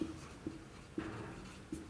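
Chalk or marker writing on a classroom board during a chemistry lesson, heard as four short faint scratchy strokes spaced about half a second apart, quiet and close, with no talking.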